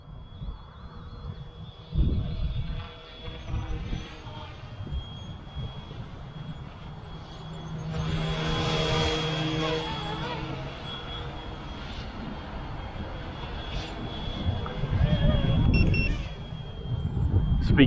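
F07 UH-1D Huey brushless RC military helicopter in flight, a thin buzzing whine that swells as it passes close and fades again, with wind rumble and a person talking at moments.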